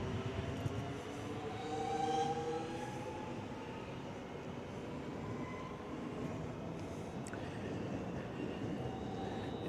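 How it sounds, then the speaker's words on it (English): A suburban train bound for Flinders Street runs past Hawthorn Station with a moderate, continuous rumble and faint wheel tones, heard at some distance without voices. "This train here is just going to Flynn Street."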